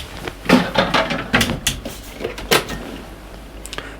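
Several wooden knocks and clunks as a storage cupboard door in a 2021 Sunseeker Predator 55 EVO yacht galley is opened and shut nearby, with brief handling noises between.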